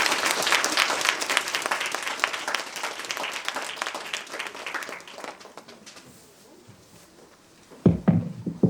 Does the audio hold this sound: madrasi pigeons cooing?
no